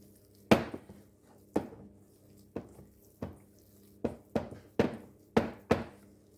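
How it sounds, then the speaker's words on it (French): Small lumps of butter being pressed and crushed into almond paste in a bowl, heard as about eight separate dull thunks with short decays at uneven intervals, close and with no talking. "Si on trouve encore des petits morceaux de beurre, on écrase."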